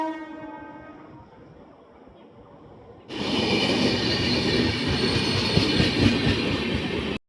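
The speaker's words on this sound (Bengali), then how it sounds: "এই যে ঢুকছে আমাদের ট্রেন কাটিহার হাওড়া এক্সপ্রেস।" Katihar–Howrah Express pulling into a station platform: quiet ambience for about three seconds, then a sudden loud roar of the passing train with rumbling wheels and rattling carriages that continues steadily until the end.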